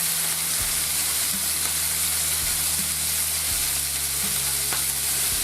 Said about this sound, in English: Don't stay too close to the skillet when you're flaming the meat.